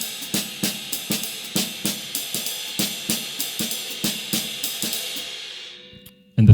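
Jazz drum kit playing a short four-beat broken-time phrase, with crisp cymbal strikes and light snare and tom hits in a steady swinging pulse that rings out near the end, close and alone.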